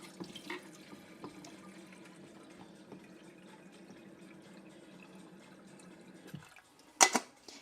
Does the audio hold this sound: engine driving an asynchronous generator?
no